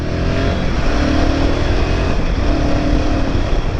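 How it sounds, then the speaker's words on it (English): A new motorbike ridden in second gear at low speed, with a steady, loud engine drone and road rumble throughout, plus a slight vibrating buzz from the dash area, no talking. "There is a slight vibrating noise coming out of the dash area."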